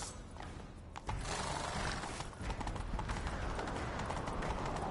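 Hoofbeats of a galloping horse in The Witcher 3, a quick, steady clip-clop rhythm running continuously and fairly loud over a dense background of game sound.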